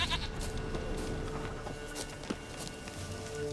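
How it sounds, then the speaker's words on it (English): A goat bleats in The Witcher 3 amid steady game ambience, with a short sharp call and light footstep-like sounds, no voices. "Here, goat."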